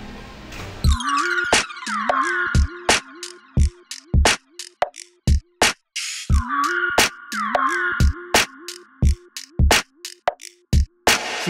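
Rhythmic electronic music built entirely from slowed, processed dolphin clicks and squeaks: sharp percussive pops in a repeating pattern with stepped tonal notes, no voices.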